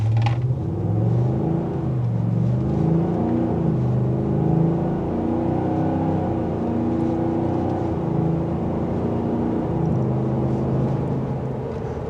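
A 2023 Ford F-250 Tremor diesel pickup pulls away from a stop, its engine rumbling low and rising steadily in pitch as it gains speed, close and sustained without talk.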